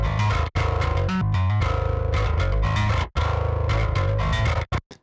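A heavily distorted, compressed metal guitar chugs loudly and densely, broken by abrupt silent stops between riffs before a final staccato cutoff.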